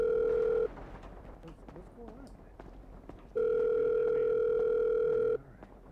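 A telephone dial tone sounds while a call to 911 is placed in the video game GTA V, two steady humming tone stretches separated by a gap with faint ambient noise and clicks.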